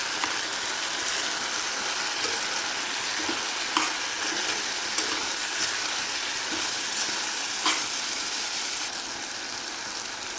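Sliced bitter gourd stir-fry sizzling in a pan as it is stirred, a continuous close frying hiss with occasional scraping clicks of the spatula.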